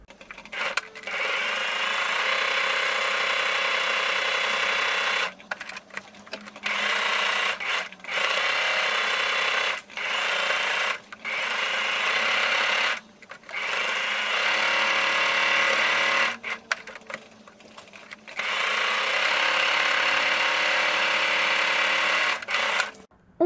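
Sewing machine stitching an elastic pocket half a centimetre from the edge, running in several steady bursts of rapid mechanical whirring separated by short pauses, close and clear with no talk.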